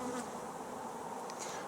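Honey bees hum in a steady, dense drone at the entrance of a hive, close and continuous, with a few individual bees buzzing briefly past.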